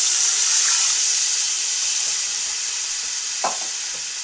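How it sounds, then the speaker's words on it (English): Two cups of water go into a hot pan of sizzling meat for a beer-based stew, giving a loud, steady hiss and rush of frying with a couple of faint clinks. "first, add 2 cups of water."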